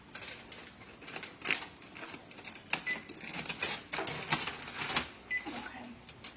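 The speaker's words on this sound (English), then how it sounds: "Let me get this tin foil off." Tin foil is peeled off a baking dish of freshly baked cubed steak, giving a run of close crinkling, rustling crackles in irregular bursts with no talk over it.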